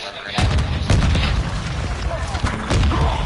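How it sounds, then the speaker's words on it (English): Precision airstrike explosions in a shooter video game: a series of heavy booming blasts and cracking impacts landing in quick succession, loud and close, with game voice radio chatter over them. "Friendly precision airstrike inbound."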